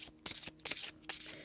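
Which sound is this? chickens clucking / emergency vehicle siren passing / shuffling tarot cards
shuffling tarot cards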